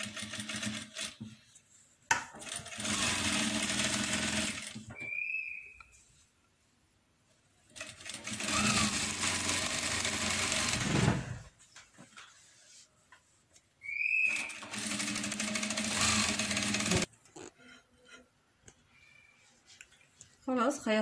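A sewing machine stitches a towel for a buttoned hair-drying wrap in three separate bursts of rapid whirring, each a few seconds long, with quiet pauses between them.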